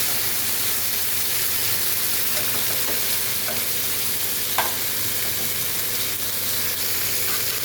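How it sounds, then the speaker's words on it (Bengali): Potato and bitter gourd stirred as they fry in a pan, giving a loud, steady sizzle that runs throughout, with a few faint spatula scrapes and no talking. "তো এখানে আলু উচ্ছে সব দেওয়া হয়ে গেছে, তারপরে একটা নেড়ে নিচ্ছি।"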